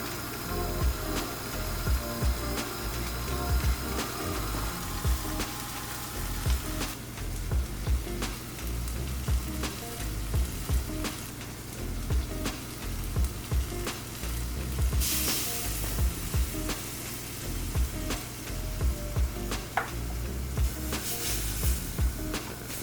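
White wine poured over black tiger prawns boiling in a pan for squid ink spaghetti sauce hisses in a loud, continuous sizzle. Low clatter and stirring knocks sound underneath, and nobody speaks.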